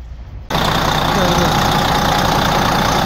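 A replacement Detroit 12 diesel in a truck, swapped in for a KAMAZ engine, fires up for the first time and settles into a loud, steady idle after a quiet start.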